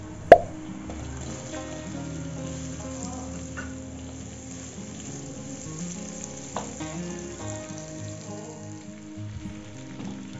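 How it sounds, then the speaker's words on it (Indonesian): Sliced onion dropped into a pan of garlic frying for Korean gochujang bulgogi: a sharp plop at the start, then a steady, moderate sizzle that carries on alone. "Setelah harum, masukkan bawang bombay yang sudah diiris."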